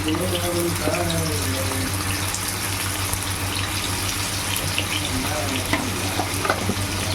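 Cleaned ooli fish fries in oil in a pan, a loud continuous sizzle and bubbling with a steady low hum beneath and faint background sounds.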